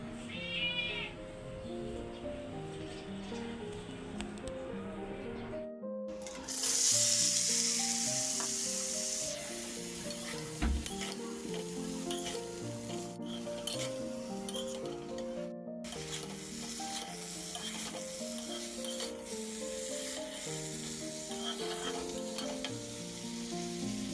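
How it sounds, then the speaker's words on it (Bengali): Vegetables and meat with papaya, potato and beans stir-fry in a wok, sizzling and crackling steadily throughout with scraping stirs, a brief loud burst of hiss near the middle and short gaps. "মাংস রান্না করতেছি পেঁপে দিয়া"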